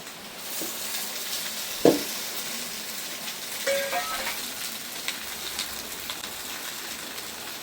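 Small fish fry on a banana leaf in a pan with mustard oil, producing a soft, continuous sizzle with a few scattered pops and clicks, close and fairly quiet, with no talking.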